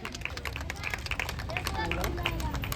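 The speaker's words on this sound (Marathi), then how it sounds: "जोरदार टाळ्यांचा प्रतिसाद वन मोर टाइम" A crowd at a cricket tournament prize ceremony breaks into brisk, continuous clapping, dense and fairly close, with murmuring voices running underneath.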